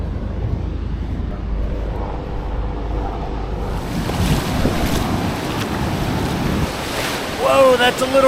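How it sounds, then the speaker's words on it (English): Ocean waves break on a Sydney beach in a steady roaring wash of surf mixed with strong wind buffeting the mic, swelling louder partway through, with a faint voice near the end. "Look at these waves."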